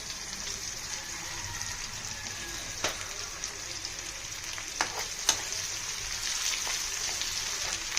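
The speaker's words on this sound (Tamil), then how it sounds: "வெங்காயம் லைட்டாக வதங்கினா போதும்." Onions sautéing in oil for a Madurai-style pepper mutton dish, a steady, moderate sizzle with occasional sharp crackles and spoon taps scattered throughout.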